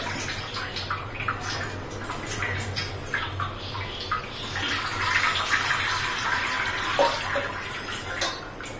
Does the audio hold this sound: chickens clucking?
no